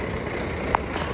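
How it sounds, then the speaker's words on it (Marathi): A garbage truck on a Brighton city street produces a low, steady engine rumble with one short beep, heard close and without voices. "कचऱ्याची गाडी"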